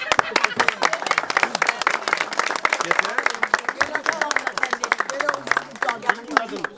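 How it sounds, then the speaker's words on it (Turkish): Lively applause and clapping from a crowd at a traditional gathering, dense and rhythmic, with voices talking and calling out over it. "Alkış"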